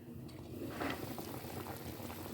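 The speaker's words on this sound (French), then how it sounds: "les légumes sont en train de bouillir avec la viande" Vegetables and meat for tiéboudiènne simmering in a pot, a quiet steady bubbling with faint clicks and small pops, close and soft with no voices.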